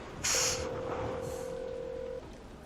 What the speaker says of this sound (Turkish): Niye açılmıyor o telefon?